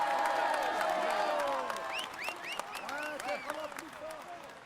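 A roadside crowd at the 2016 Tour de France applauds and cheers a stage-winning rider on the podium, with sustained clapping full of sharp whistles and whoops that thin out slightly toward the end.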